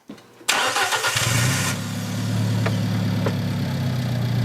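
An Alfa Romeo 4C fires up: a short starter whir, then the engine catches with a loud bark and settles into a deep, steady idle, close by.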